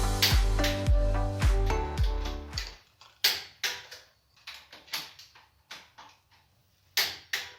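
A torque wrench tightens the cylinder head bolts on a Vortec engine fitted with 906 heads, torquing to 65 foot-pounds: a buzzing ratchet run gives way to a series of sharp, close metallic clicks and ticks.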